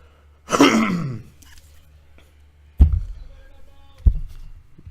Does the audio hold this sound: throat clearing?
yes